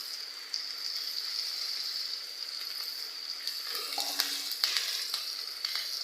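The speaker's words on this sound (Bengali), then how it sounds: "হলুদ দিয়ে ভালোভাবে নেড়ে চেড়ে নেব।" Onion, garlic and turmeric fry in a pan with a soft, steady sizzle, and a few clinking stirs of a spatula come through near the end, fairly quiet and close.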